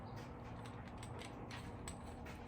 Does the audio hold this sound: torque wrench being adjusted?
yes